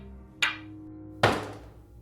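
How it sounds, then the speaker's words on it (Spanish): Two sharp, solid knocks on an inn door, spaced almost a second apart, each ringing briefly in a quiet room. "Entonces sonó un golpe seco en la puerta de la posada."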